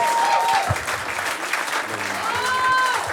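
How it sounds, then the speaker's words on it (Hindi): Loud, sustained applause fills the room from a comedy crowdwork show audience, steady clapping throughout with crowd noise and a few voices mixed in. "जोरदार तालियां"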